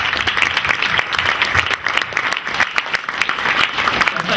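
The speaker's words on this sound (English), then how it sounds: "let's thank the panel," A seated audience gives a round of applause at the end of a panel discussion on mobile technology and tourism: dense, steady clapping that holds at full strength for several seconds, close and loud.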